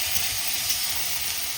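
Onion, ginger and garlic sizzle in a pan with prawns, a steady close hiss of frying that holds through the short moment without talk.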